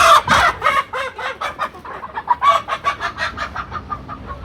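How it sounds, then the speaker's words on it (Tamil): A black country chicken clucks and squawks loudly while being caught, a close run of sharp, agitated calls that settles into a steady string of rhythmic clucks. "கருப்பு கோழியை பிடிச்சிட்டாருங்க ஜம்முன்னு"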